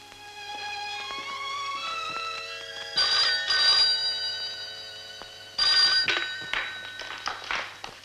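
An old telephone rings loudly indoors in bright, repeated bursts of tonal ringing, with a brief pause between them and no talk over it.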